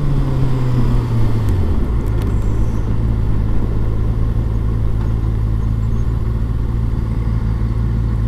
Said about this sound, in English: Trying to get better at blipping my engine when I downshift.